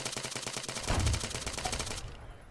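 Rapid automatic gunfire from the video game Arma 3, King of the Hill mode, a close burst of shots in quick succession with one heavier near blast in the middle before it cuts off.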